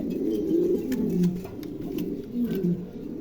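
A pair of blue Maltese pigeons coo softly in repeated low, throaty phrases, close by and fairly quiet, with faint background noise.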